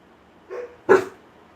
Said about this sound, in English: Red dot outside barking.